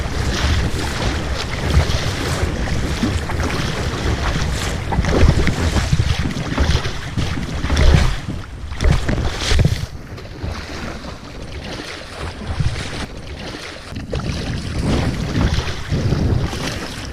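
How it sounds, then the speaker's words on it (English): Strong wind buffets the microphone over crashing waves and water around a small boat at sea off Newfoundland, a steady loud roar with surging gusts and no talk. "There's a strong wind from the south"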